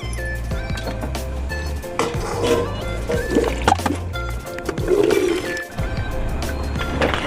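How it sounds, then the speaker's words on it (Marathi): Water pours and trickles steadily through a strainer from soaked lentils into a pot below, with splashy gurgles over a low background hum. "आपण चाळणमध्ये ही सगळी डाळ टाकणार आहोत आणि त्याचं पाणी खालील टोपामध्ये काढणार आहोत"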